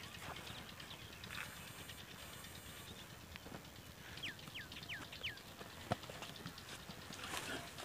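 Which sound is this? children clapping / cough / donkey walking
donkey walking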